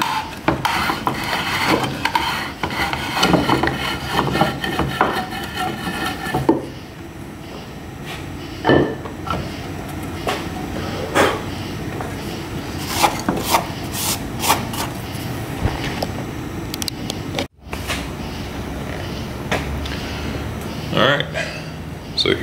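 A tap cuts threads through a wooden nut in a scraping, rasping rhythm of repeated short strokes, close by, with someone talking over parts of it.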